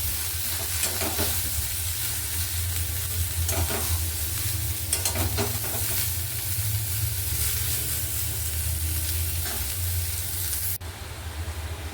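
Cauliflower florets seasoned with salt, turmeric and chili powder sizzle steadily in a hot pan, with intermittent scraping stirs over a constant oil hiss and a low burner hum; no one speaks.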